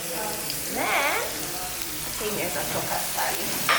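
Red bell peppers frying in a pan, a steady close sizzle with a voice talking over it partway through.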